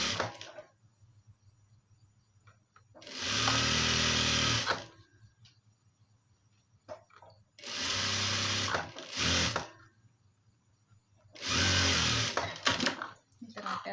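Sewing machine stitching bordered cloth runs in three separate loud bursts of fast whirring, with quiet pauses and faint handling noises between them.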